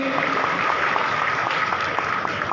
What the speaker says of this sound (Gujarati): જોરદાર તાળીઓથી એમને પણ આપણે આવકારીએ છીએ